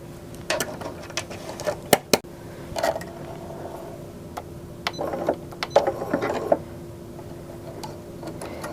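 A sewing machine is turned by hand to pull the bobbin thread up to the surface, heard as scattered mechanical ticks, clicks and short whirring bursts, irregular and close, with no speech.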